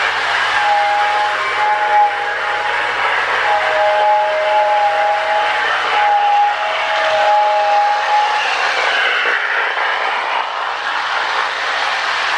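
A restored early MPC-era Lionel toy train tender sounds its steam-style electronic whistle, a loud, steady multi-tone wail held through several sustained blasts over a constant mechanical hum.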